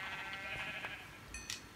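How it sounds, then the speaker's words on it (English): Sheep bleating in the Minecraft video game, a short pair of nasal bleats close and clear, followed by a bright chime-like blip, with no talking. "Here's a sheep."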